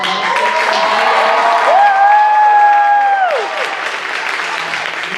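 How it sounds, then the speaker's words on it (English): A theater audience at the close of the performance portion of a Last Scot Standing competition evening bursts into loud applause and cheering, with shrill whistles rising above the clapping before the noise settles to steadier clapping. "Let's give another big, loud round of applause for all"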